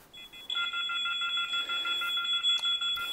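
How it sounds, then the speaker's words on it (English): A security app alert rings on a phone as a repeated electronic tone alarm: steady beeping pulses that start after a brief pause and continue clearly and loudly throughout, with no speech. "The first thing I'm going to do is set off an alert on the client's phone now."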